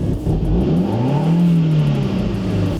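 A neglected Saab car that was reluctant to start runs during a test, its engine droning and rising in a single rev close by, with a rough, uneven idle and no talk.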